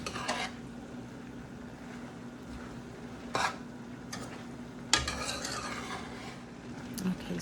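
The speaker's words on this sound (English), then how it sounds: "I'm just going to mix that all in to make sure that sugar goes through all my onions as well." Onions with brown sugar stirred in a big pot, a few distinct scraping and clinking strokes of the utensil against the pot over a faint background sizzle.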